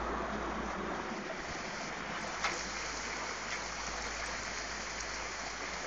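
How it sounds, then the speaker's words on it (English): Rainwater pouring into a garage during a thunderstorm at a pumpkin patch, a constant rushing, splashing flow like a stream, steady and close with no letup. "As the water slowly pours into the garage."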